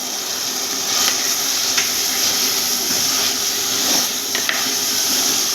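Dried fish sizzling in a pan of cooked-down tomato gravy, a steady hiss with faint scattered crackles and light clinks, close and continuous with no talking.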